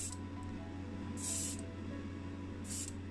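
Paint spray gun firing two short hissing bursts, about half a second each with a pause between, while painting a Matchbox 1962 Chevrolet Corvette C1 model, over a steady low compressor hum.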